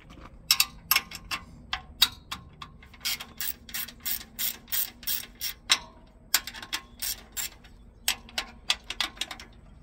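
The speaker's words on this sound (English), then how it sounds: "I take a wrench on an FD1, I gotta loosen up these lock plates here." A wrench ratchets in quick, steady runs of metallic clicks with brief pauses while loosening lock plates on a MacDon FD1 draper header, close up and with no speech.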